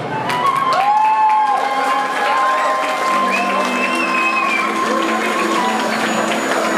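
Wedding guests applaud during a ceremony, a continuous wash of clapping and crowd noise with faint cheers and a few tonal sounds running beneath it.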